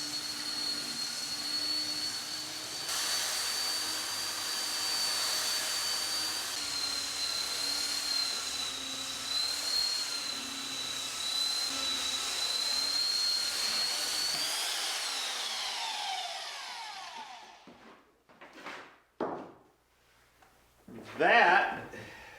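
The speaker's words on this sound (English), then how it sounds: "belt sander to dress it up." A belt sander dresses a wooden keel on a Caledonia Yawl hull, running as a loud steady whine for about fifteen seconds before spinning down, followed by a few short bursts.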